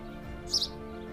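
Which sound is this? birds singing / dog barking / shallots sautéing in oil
birds singing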